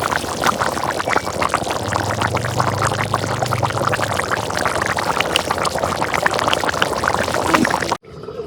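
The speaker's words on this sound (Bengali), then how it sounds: "এখন আমি ঝোলের পানি দিয়ে দিই।" Water is poured into a pot of chicken curry cooked with tomatoes to make the gravy: a continuous, close splashing stream that runs steadily for about eight seconds before stopping abruptly.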